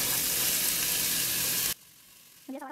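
Chopped onion dropped into hot oil, a loud bright sizzle for under two seconds that cuts off abruptly, followed by quiet with a brief tonal sound.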